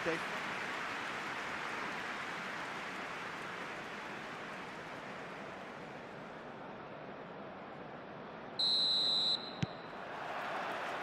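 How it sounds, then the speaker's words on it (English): A referee's final whistle at a FIFA U-17 Women's World Cup qualifier between Kenya and South Africa: a single shrill blast of about a second that cuts through a broad crowd wash, with commentary running underneath. "There's the whistle."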